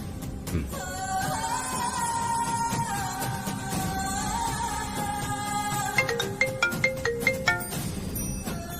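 A mobile phone ringtone sounds in a Tamil TV drama scene: a looping electronic melody of sustained tones that breaks into a run of quick beeping notes near the end, moderately loud.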